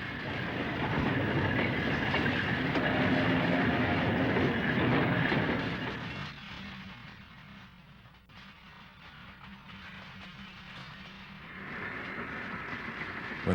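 A westbound Sacramento Northern interurban electric train rolls loudly past near Walnut Creek station with clattering wheels, then the sound drops to a quieter rumble as it slows before swelling again toward the end.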